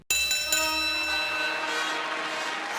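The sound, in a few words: bell ringing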